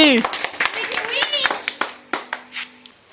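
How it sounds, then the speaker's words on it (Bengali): Children clap for the winners of a village game, a short burst of scattered claps mixed with talking and kids' voices. "বিজয়ের জন্য সবাই একটা জোরে হাততালি"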